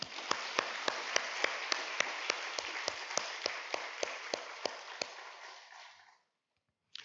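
A church congregation applauds during a Sunday morning worship service, a steady wash of clapping with sharp, evenly spaced beats running through it, which fades out after about six seconds into near silence.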